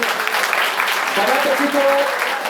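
Audience applause at a road safety awareness event at a college, a short burst of clapping mixed with voices and a tonal sound near the end.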